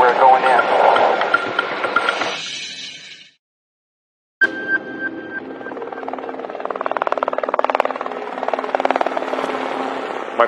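A helicopter flies over a property during a police search, its rotor drone loud and steady. The noise cuts out briefly, then returns with a rhythmic beating, and voices talk over it at times.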